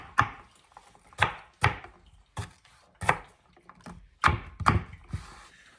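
A knife chops food for homemade pizza on a board in about eight sharp, separate thunks, close and irregularly spaced, with quiet pauses between strokes.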